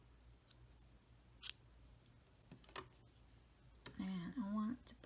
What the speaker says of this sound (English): I am ready to cut my yarn